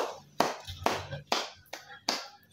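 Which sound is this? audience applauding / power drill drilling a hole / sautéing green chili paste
audience applauding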